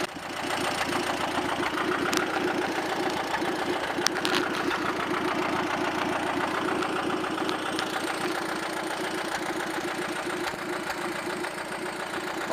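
A tractor engine runs steadily while driving through pine woods at the edge of a field, a continuous close idling-like rumble with faint knocking and no talk.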